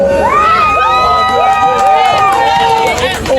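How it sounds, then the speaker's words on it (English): Crowd cheering at an election campaign rally, loud and continuous, with shouting and whooping voices rising and falling over a dense babble, no distinct clapping standing out. "Come on, a little better applause than for Comrade Deborah Hickling."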